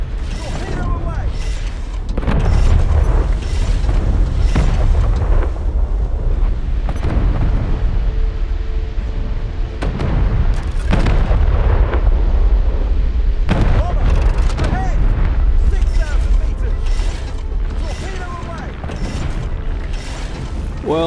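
Torpedo explosions and deep booms in a submarine game featuring a US Navy Balao-class submarine, heavy rumbling blasts recurring over about twenty seconds alongside creaking mechanical noise.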